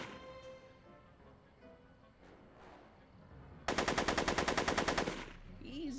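Rapid machine-gun fire in the Back to the Future video game, a loud burst of evenly spaced shots lasting about a second and a half after quieter game sounds.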